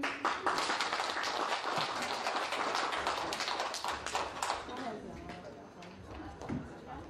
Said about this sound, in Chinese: 此时此刻，让我们再一次把掌声献给他们